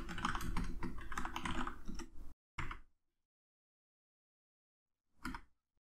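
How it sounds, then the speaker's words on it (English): Fast clattering keystrokes on a computer keyboard for about two seconds, then a couple of isolated key presses separated by silence, close and fairly quiet with no talking. "we just need to type whatever we want here"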